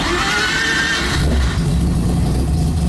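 A 3-rotor rotary engine with individual throttle bodies cranks and catches, then settles into a loud, rough, lumpy idle close by, with no voices over it.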